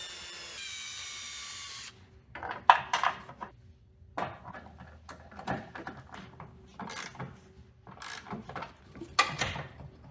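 Metallic clicks and ratcheting as rusty tank hold-down bolts are threaded back in on a 1995 Pontiac Firebird Trans Am, short irregular bursts of tool noise close by, with pauses between.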